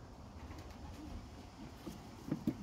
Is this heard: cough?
no